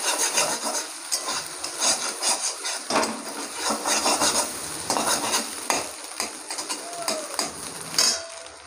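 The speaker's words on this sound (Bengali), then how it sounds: "ডিমটা ভেজে নিয়েছি।" Egg frying in oil in a wok-style pan for home-style chowmein, with steady close sizzling broken by repeated scraping and stirring of a utensil against the metal, plus a few clinks.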